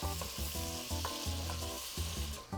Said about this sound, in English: We're gonna let this cook until the garlic and the shallot get sort of translucent